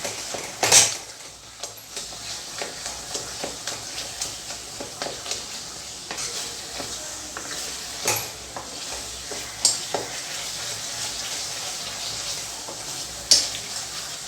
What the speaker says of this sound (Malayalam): എങ്ങനെയാണെന്ന് വെച്ചാൽ നന്നായി ഒന്ന് ഉടച്ചു കൊടുക്കാം.